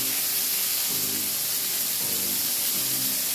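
Bacon frying in a hot pan for Southern fried cabbage, a steady loud sizzle and hiss with crackling pops throughout, heard alone without speech.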